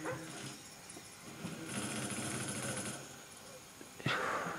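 Attack dogs in Call of Duty: Black Ops on PS3 yip and bark amid dense, hissy game noise, with a sharp loud burst near the end.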